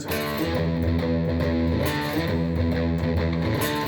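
A thick, distorted electric guitar riff chugs steadily at a loud, even level, dense and saturated with no talking.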